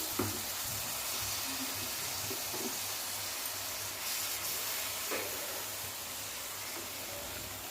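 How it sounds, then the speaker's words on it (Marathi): Ground spices for a cluster bean curry frying in oil in a pan, a soft continuous sizzle and hiss heard from close by, fairly quiet and steady with a faint low hum underneath. "मसाले परतून घेऊया तेलामध्ये"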